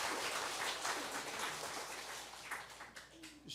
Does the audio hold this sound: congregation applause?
yes